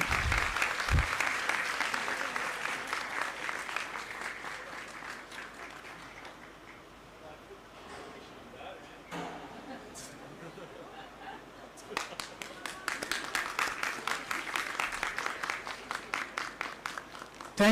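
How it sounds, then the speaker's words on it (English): Students in a Doon University audience clap together at a G20 celebration event, with a spread of hand claps that thins out and goes quiet in the middle, then swells again into denser rhythmic applause. "At least clap for your friends"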